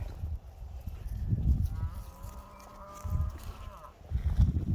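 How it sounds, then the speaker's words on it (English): A cow moos once across the middle of a farm soundscape, a drawn-out low call at moderate distance, set amid wind and low rumbling outdoor noise. "I just heard a random moo and I see a little black cow right over there"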